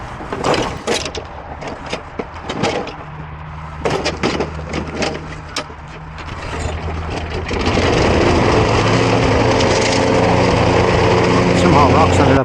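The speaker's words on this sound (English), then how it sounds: "I'll take the mower to it" A walk-behind lawn mower roars to life partway through and holds a loud, steady engine drone while cutting an uphill yard strewn with rocks, after several earlier knocks and clatters.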